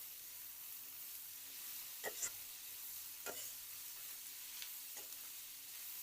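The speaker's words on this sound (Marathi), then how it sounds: "आता मीठ टाकलं कांद्यात की कांदा शेकतो छान" Onion frying in oil with salt for an onion-potato stir-fry, a soft continuous sizzle broken by a few quick spatula scrapes and taps, faint and close.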